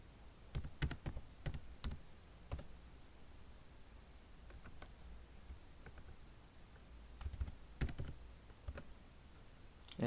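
Fingers tap out a command on a computer keyboard in a quiet room, the soft key clicks coming in two quick clusters with scattered single presses between them.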